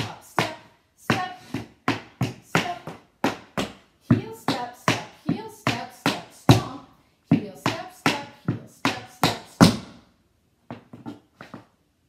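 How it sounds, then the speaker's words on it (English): Tap dance steps on a hard floor: stomps, steps and claps in crisp, evenly spaced groups with a steady rhythm, each hit loud and close, ending with a few lighter, quieter taps after a short pause. "stomp, step, step, stomp, clap, clap, stomp, clap, clap, stomp, stomp, step, step, stomp"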